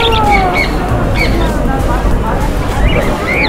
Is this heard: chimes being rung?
no